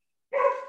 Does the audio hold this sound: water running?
no